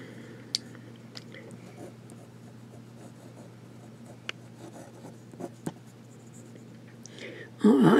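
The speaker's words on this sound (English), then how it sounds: "let's get to writing here" A vintage Sheaffer student fountain pen scratches faintly across paper, with scattered small ticks and soft strokes. A voice briefly starts speaking at the very end.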